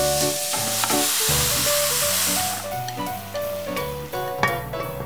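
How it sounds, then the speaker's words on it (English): Loud, continuous sizzling and hissing of beef stir-frying in a hot pan, with scraping stirs throughout. "And let's stir-fry the beef."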